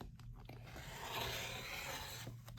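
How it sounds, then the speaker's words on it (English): Rotary cutter slicing through fabric in one continuous rough scrape lasting a couple of seconds, close and fairly quiet. "Get my cutter"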